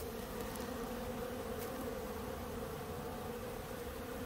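Honeybees swarm around an apple-tree hive in a dense, continuous buzzing drone, steady and even throughout with no voices.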